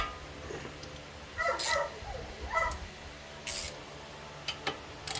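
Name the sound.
dog whining for attention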